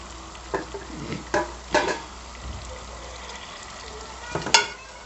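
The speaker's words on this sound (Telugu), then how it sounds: "ఒక 5 నిమిషాల పాటు ఆయిల్లో ఇలా వేగించుకోవాలండి" Mutton fries in hot oil with tomatoes for a curry, giving a low, steady sizzle broken by a few louder scrapes and stirring knocks from a spoon in the pan.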